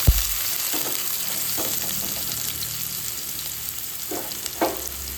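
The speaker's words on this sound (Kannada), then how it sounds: "ಈಗ ಈರುಳ್ಳಿ ಹಾಕ್ಕೊಂತೀನಿ." Onions go into hot oil in a pan, starting with a sharp thud and then a steady frying sizzle broken by a few stirring scrapes, close up with no talk.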